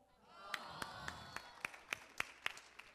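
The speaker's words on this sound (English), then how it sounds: "Once again, nice round of applause for Jada" Audience applause for a young girl named Jada after her dance, a quiet scattering of sharp hand claps at an uneven rhythm, heard at a distance with faint crowd murmur.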